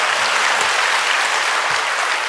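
Audience at a political rally speech applauding, a dense, even wash of many hands clapping at once, loud and sustained throughout with no voice over it.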